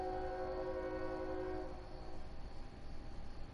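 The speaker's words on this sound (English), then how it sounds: "you about to hear a loud ass train noise" A loud passing train sounding its horn, a sustained tonal blast that cuts off partway, followed by the low rumble of rail cars rolling by.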